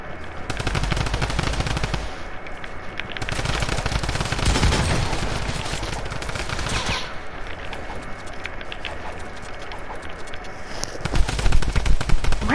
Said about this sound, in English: Michael, why are you still shooting at me?